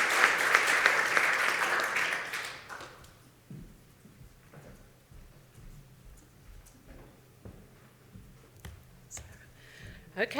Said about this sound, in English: but let's clap her.